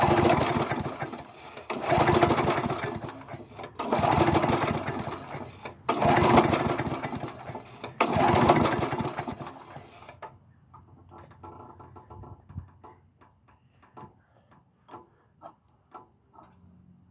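A hard-starting 22-inch Murray lawn mower engine, fitted with the carburetor and gas tank from another mower, chugs in four loud rhythmic bursts, then drops to faint mechanical ticking.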